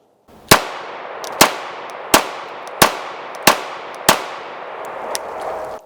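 A Shadow Systems DR920L long-slide competition pistol fires six fast, evenly spaced shots, each a sharp loud crack with a short ringing tail, followed by a faint trailing clink.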